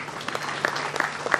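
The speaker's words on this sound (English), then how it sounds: "Can you join us in welcoming her with a warm round of applause" Audience at a school annual function and prize distribution ceremony applauds a chief guest, a dense burst of clapping with sharper individual claps standing out, close and lively, no speech.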